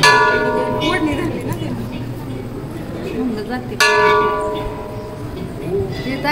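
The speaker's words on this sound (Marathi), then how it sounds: "घंटी वाजवते मारुती" A temple bell rings at a Maruti shrine, two bright struck tones with long ringing decays, over crowd murmur and talk.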